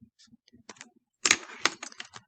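Sparse key taps on a computer keyboard, then a louder burst of quick clattering keystrokes, close and dry with short gaps between presses.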